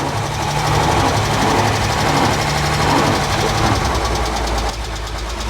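A Mercedes Unimog engine runs steadily while the truck slowly reverses, a loud, close, even diesel drone with a rhythmic knocking pulse that drops slightly near the end.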